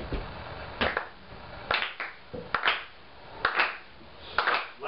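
Single hand claps in a loose beat during a pop song rehearsal at a bookshop, about one each second, crisp and close against quiet surroundings.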